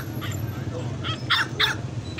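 Dogs for sale at the Bac Ha market in Vietnam give a few short yips and whimpers, brief bright bursts over a murmuring crowded market background.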